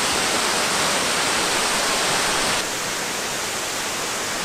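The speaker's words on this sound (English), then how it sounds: "up here at a waterfall" A waterfall in Norway gives off a steady, loud broadband rush of falling water, roaring evenly throughout with no break and no voices.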